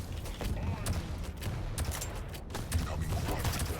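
Weapon fire in Quake Champions, an arena shooter, comes as repeated loud blasts and bursts in a busy match, with someone talking over the action.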